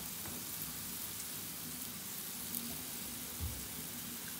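Paneer shallow frying in a pan, a steady soft sizzle and crackle running throughout, with a few faint bumps and no talking.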